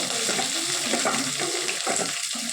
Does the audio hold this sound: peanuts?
yes